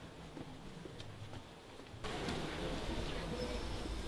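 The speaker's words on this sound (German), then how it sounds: "es regnet wie immer" Rain falls outdoors in the Sauerland as a steady broadband hiss that grows noticeably louder and fuller about halfway through, with no voices.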